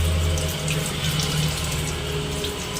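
Kitchen tap water running steadily into a sink while pomfret fish are cleaned, a continuous close splashing hiss with a low hum beneath it.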